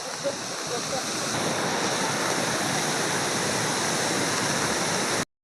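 Floodwater rushes over a dam after heavy, continuing rain, a loud, steady broadband roar like a waterfall that fills the scene without a break until it cuts off at the end.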